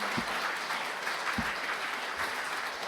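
Steady applause from an audience at an award ceremony fills the whole stretch, a dense wash of clapping at moderate loudness with no talking.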